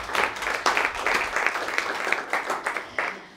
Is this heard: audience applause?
yes